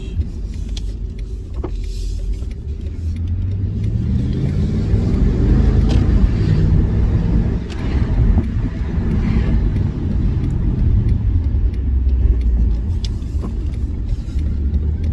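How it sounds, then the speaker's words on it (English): A 2005 Mercedes-AMG E55 with an automatic transmission that is slipping drives along, its engine rising and falling through several gear changes as a loud, steady drone dominates, with no talking. "Changing through the gears."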